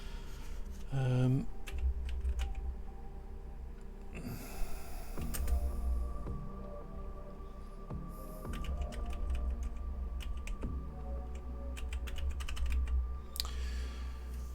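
Typing on a computer keyboard during a Gunpla model build, an uneven run of close, crisp keystrokes and clacks over a low steady room hum.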